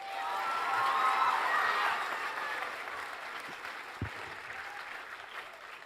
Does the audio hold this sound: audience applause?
yes